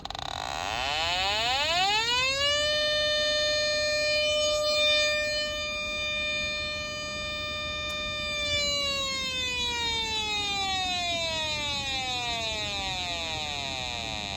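A hydrocarbon detector sounds its alarm on sensing propane: a loud electronic tone sweeps upward, holds steady for several seconds, then slides slowly back down, with no talk.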